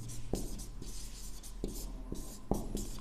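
Pen scratching across paper as a date is written by hand, close and clear, in short strokes broken by several sharp taps of the pen on the page.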